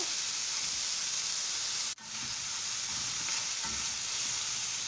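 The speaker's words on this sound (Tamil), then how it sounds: "இப்போ வெங்காயத்தை சேர்த்து கலந்து விட்டுக்கலாம். அதுவுமே நல்லா வதங்கட்டுங்க." Onions and ginger sautéing in a pan for a mushroom masala, a constant soft hiss of frying with one brief dip partway through and faint stirring underneath.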